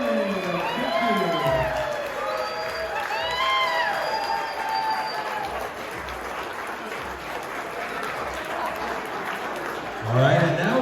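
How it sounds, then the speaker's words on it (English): Wedding reception guests clapping and cheering after a speech, a broad wash of applause with whoops and voices on top, tapering off and then swelling briefly near the end. "Big round of applause, ladies and gentlemen."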